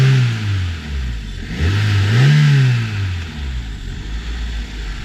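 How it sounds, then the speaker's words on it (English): A warmed-up car engine fitted with a Typhoon intake revs up in a rising sweep, holds a loud roar, then falls back toward a rumbling idle, close and alone. "That is a fantastic sounding engine"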